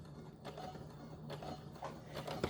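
A sewing machine back-stitches a medical face mask; a quiet mechanical whir runs with a low steady hum and soft, repeated clicking of the needle mechanism, close by.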